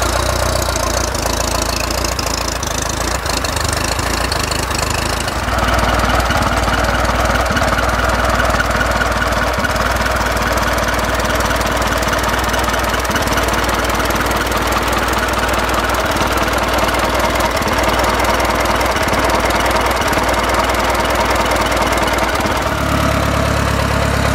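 A 1935 Indian Four motorcycle engine idles with no muffler fitted, a loud, close, steady mechanical chug with rapid even pulses throughout, rising slightly in tone partway through.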